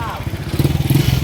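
A motorcycle heading uphill passes close by, its loud, low engine rumble pulsing and swelling, with voices talking over it.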